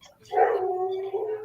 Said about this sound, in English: Can you hear Rocky howling?